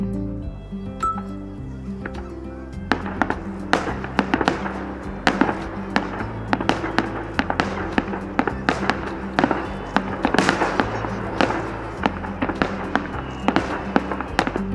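Festival fireworks launch and burst over Nara, Japan, ahead of the Wakakusa Yamayaki mountain burning. Dense, continuous bangs and crackles echo at a distance, thickening toward the middle of the barrage.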